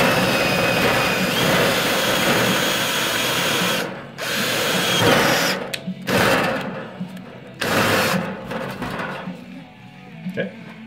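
Power drill boring a hole into car body panels during a Factory Five Daytona kit car build, whirring in sustained bursts with brief pauses, close and loud, with people talking over it.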